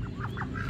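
A large Muscovy duck hen on a small home farm in Karawang gives a short run of soft, breathy clucking calls, close up over a low rumbling background.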